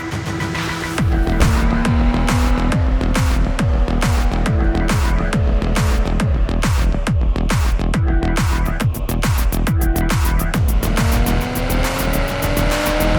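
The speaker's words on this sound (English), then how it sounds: "The brand new 2022 BMW M240i. xDrive with launch control." A 2022 BMW M240i xDrive drives hard, its engine loud and close throughout, rising and falling through repeated rapid gear changes with a steady aggressive roar and no talk.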